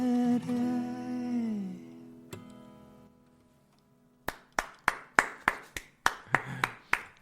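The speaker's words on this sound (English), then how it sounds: "Sound of one hand clapping against the other hand" A sustained sung note fades out, then after a pause a small audience claps in a sparse, even run of about ten separate hand claps at close range.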